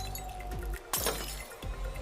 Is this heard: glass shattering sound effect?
yes